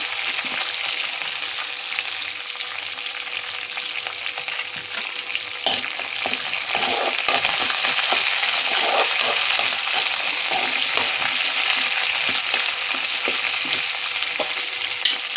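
Lemon rice tempering with coriander frying in a pan: loud, continuous bright sizzle with scraping stirring strokes throughout, no voices.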